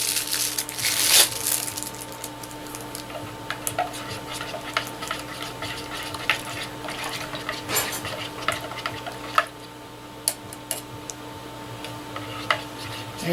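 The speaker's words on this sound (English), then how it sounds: "Give it a little stir." A drink mix from a packet gets stirred, faint scraping swirls broken by several sharp little clinks and ticks spread unevenly over the stretch, close by and otherwise quiet.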